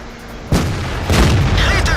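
A tank cannon shot in World of Tanks lands as one sharp, loud boom about halfway in, followed by a rumbling impact with someone talking over the action.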